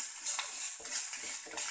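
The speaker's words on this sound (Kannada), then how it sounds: "ಹಸಿಮೆಣಸಿನ್ಕಾಯಿ ಹಾಕಿ ಒಂದು 2 ನಿಮಿಷ ಈ ರೀತಿ ಫ್ರೈ ಮಾಡಿ" Ginger garlic paste and green chillies fry in a pan, giving a steady bright sizzle with a few soft stirring scrapes and no talk.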